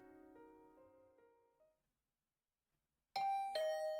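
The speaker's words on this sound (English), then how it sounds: "But then my doorbell started ringing." Doorbell in the video game The Hundred Line: Last Defense Academy rings as a loud two-note chime, close and clear, after soft descending music fades to silence.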